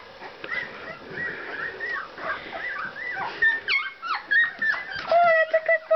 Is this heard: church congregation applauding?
no